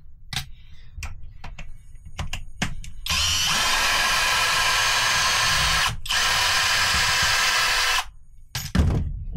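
A power drill whirs steadily as it backs out a long screw holding a wedge during mechanical work, with a brief stop midway. Scattered clicks and taps come before it and a clatter follows.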